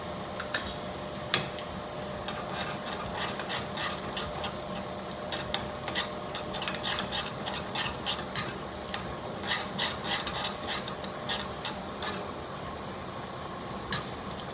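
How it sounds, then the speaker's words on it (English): A tadka of oil and garlic keeps up a soft, steady sizzle as red chili powder goes in for dal makhani, with scattered crackles and a couple of sharper clinks, faint and close with no voices. "in that tadka, I'm going to add some red chili powder"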